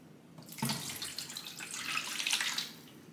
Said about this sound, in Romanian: Și în asta o să punem apă.